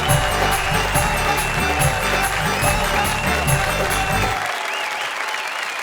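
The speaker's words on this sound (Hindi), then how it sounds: "आइए तालियों की घनघोर बारिश कर दें" A comedy-show crowd applauds the poet Rahat Indori with loud, steady clapping, mixed with tonal background sound, before it drops away sharply near the end.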